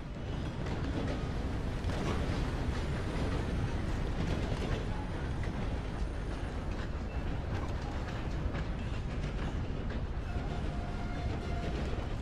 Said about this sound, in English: Alright, hold on. Let me stop the train.